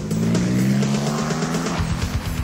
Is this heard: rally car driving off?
yes